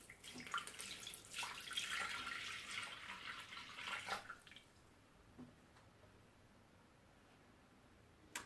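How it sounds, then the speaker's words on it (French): Lukewarm water, about 450 g, poured into the bowl of a stand mixer, a steady close splashing stream for roughly four seconds that stops abruptly, followed by quiet with a faint clink. "dans mon bol du robot je vais mettre l'équivalent de 450 g d'eau tiède"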